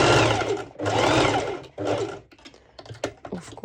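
A sewing machine runs at its longest stitch length on fabric, giving two long bursts of rapid mechanical stitching up close, then a shorter run and scattered clicks and taps as it stops.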